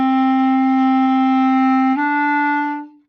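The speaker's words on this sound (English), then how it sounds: "when we play these first 5 notes, which is the 4 Ds and the E, that we keep the air blowing non-stop through the notes" A Bb clarinet plays a sustained, smoothly connected D under continuous breath, then slurs up to a single E, clear and close, fading away alone with no voices.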